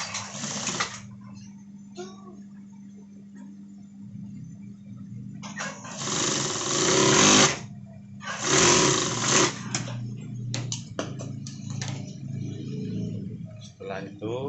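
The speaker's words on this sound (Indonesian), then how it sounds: "Lalu kita jahit satu jarum." An industrial single-needle sewing machine stitches a trouser side pocket in bursts, a steady whirring run near the start, then two louder longer runs in the middle, with a faint hum and talk between them.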